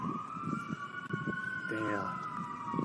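Emergency vehicle sirens wailing with a steady rising-and-falling tone, moderately distant and continuous, with people talking over it.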